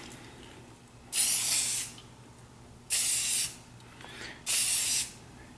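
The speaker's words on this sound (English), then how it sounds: "Keep the can about a foot away from what you're spraying" Aerosol spray paint can applied to a gun in even strokes from about a foot away: three separate sustained hissing bursts, each roughly half a second to a second long, loud and close with quiet pauses between.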